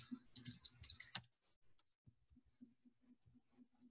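A short, quiet burst of keyboard typing as a search term goes into a browser, a quick run of clicks lasting about a second, followed by a few faint scattered taps.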